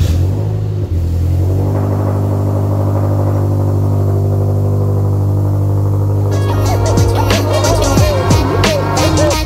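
A Toyota GT86/Subaru BRZ engine after an oil change and priming, heard as a steady low droning hum that keeps running. Partway through, sharp squealing, chirping noises join in over the engine, close and loud.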